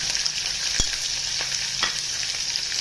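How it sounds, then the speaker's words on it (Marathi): Chopped onion hits hot oil already crackling with curry leaves and sliced green chillies, a close, steady sizzle with a few sharp pops and spatters. "त्यात आता याच्यामध्ये चिरलेला कांदा टाकून देतो"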